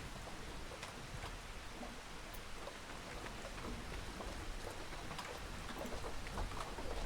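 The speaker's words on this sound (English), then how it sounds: "Oh, looks like we've got some rain or hail." Steady rain pours in Farming Simulator 25, a dense continuous hiss of drops with faint low rumbles like distant thunder, loud and unbroken throughout with no voices.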